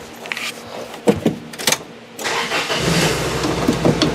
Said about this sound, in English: this is the best car to show you because it fires up and runs great